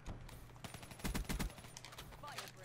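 Bursts of rapid gunfire in an online shooter video game, a cluster of loud close shots around the middle with scattered single shots before and after, mixed with game sounds.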